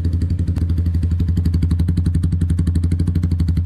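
A Suzuki Gixxer 155 motorcycle fitted with an aftermarket exhaust idles close by. Its steady, loud, rapid thumping pulse runs unbroken and stays even with no voices over it.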